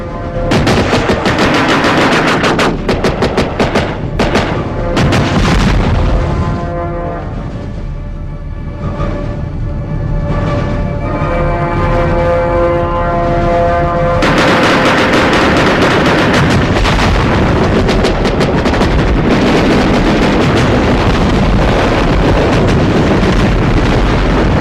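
War scene in the movie Radhe with rapid machine-gun fire and explosions, loud and continuous, easing into a sustained tonal lull midway before the heavy gunfire resumes at full intensity.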